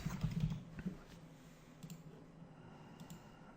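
Keys tapped on a computer keyboard, a quick cluster of soft clicks at the start followed by a few sparse, fainter taps, close and quiet with no talking.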